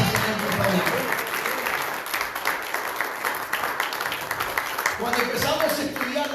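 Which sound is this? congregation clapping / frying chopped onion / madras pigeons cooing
congregation clapping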